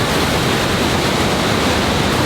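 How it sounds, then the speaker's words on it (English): The Rogue River rushes through the Rogue Gorge in Oregon, a loud, dense, unbroken roar of churning water heard close by on its own. "That's a lot of water flowing through there"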